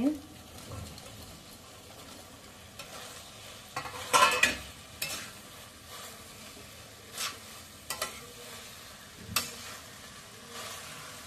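Fried soybean chunks are stirred in a hot pan for soybean chilli, making scraping strokes in irregular bursts over a low, steady sizzle. A voice can be heard faintly at times.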